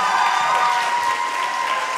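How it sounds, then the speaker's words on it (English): Audience applause for a high school concert band at a Christmas concert, a dense steady wash of clapping heard alone with no talk. "Big round of applause."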